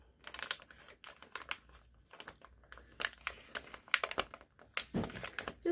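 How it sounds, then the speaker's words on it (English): Contact paper peeled off a portable mat for filming and photography surfaces, heard as close, crackly crinkling and tearing bursts in irregular spurts with brief pauses, no talking. "We're going to go ahead and remove the contact paper"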